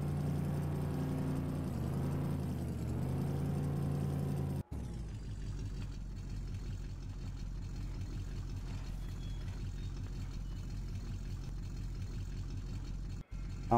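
A tractor engine in Farming Simulator 15 runs at a steady, low, droning idle. The sound is loud and continuous with no voices, and it cuts off briefly twice.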